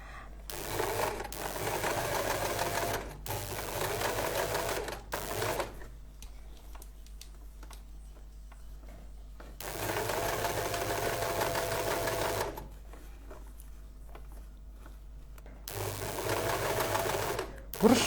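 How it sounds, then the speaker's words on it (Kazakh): A domestic sewing machine stitches a staple rayon dress in three close, loud bursts of rapid whirring, separated by quieter pauses where fabric is handled. "Вот осылай тігіп шығамыз."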